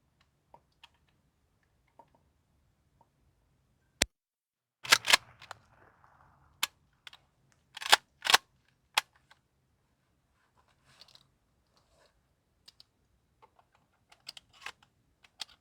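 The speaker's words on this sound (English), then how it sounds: "That was 5 shots." Sharp handgun shots fired outdoors, several loud cracks spaced irregularly across the stretch with quieter clicks and handling noises between them, near and alone without talk.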